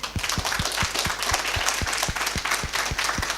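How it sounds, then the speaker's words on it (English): Audience applause for a panel of game publishers at an open mic Q&A event, steady dense clapping from a nearby crowd with sharp individual claps standing out, no talking over it. "Let's give the big round of applause to our publishers for coming."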